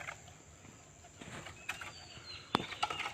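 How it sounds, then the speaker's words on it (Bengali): A young pigeon flutters down to land near a house where a mason is working, with soft wingbeats building to a sharp, close burst of flapping near the end over a quiet background. "এবার পায়রাটা লেবে যাবে"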